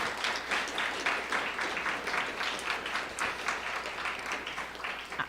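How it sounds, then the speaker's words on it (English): A symposium audience gives sustained applause for its sponsors, the crowded clapping rolling along evenly and fairly loud throughout with no pauses. "let's do a round of applause for our sponsors"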